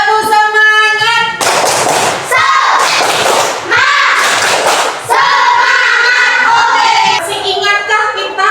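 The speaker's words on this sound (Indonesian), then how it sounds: "Coba tepuk semangat." Schoolchildren in a classroom doing a rhythmic spirit clap, loud group clapping in bursts mixed with children's chanting voices, close and energetic.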